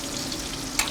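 Meat sizzling and spitting in a frying pan with a crushed garlic clove and a sprig of thyme, a steady close hiss with a brief sharper crackle near the end.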